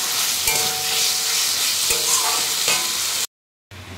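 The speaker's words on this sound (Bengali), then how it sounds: "আর এখন আলু দিয়ে মশলাটা ভালো করে কষিয়ে নিচ্ছি।" Potatoes and spice paste are fried and stirred in a pan, a steady close sizzle broken by occasional scraping clicks of the spoon, with a brief dropout near the end and no talking.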